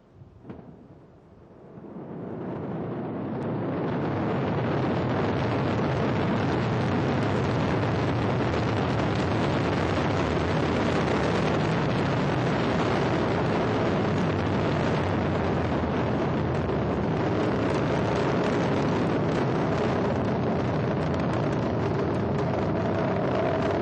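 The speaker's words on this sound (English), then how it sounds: "Allumage des EAP et décollage" Ariane 5 solid boosters ignite for the Herschel and Planck launch, a sudden roar that swells within seconds into a loud, sustained, broadband rumble and crackle of liftoff, continuing unbroken to the end.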